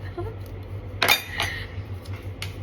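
Teaspoon clinking against dishes, a couple of bright metallic chinks and one clear clink near the end, close over a low steady room hum, with no talking.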